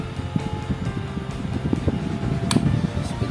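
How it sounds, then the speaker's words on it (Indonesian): A Regency Tornado electric fan, repaired with a new bushing and added foam, runs at speed 2 with a steady low motor hum and airflow, with faint clicks and brief knocks over it. "putaran pada dinamo kipas angin regensi Tornado Pen ini"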